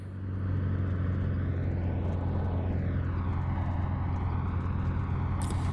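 The FlyingIron P-38L twin-engine fighter drones steadily on approach to the runway in MSFS 2024, a loud, continuous engine hum with sweeping pitch shifts from the propellers, and no talking.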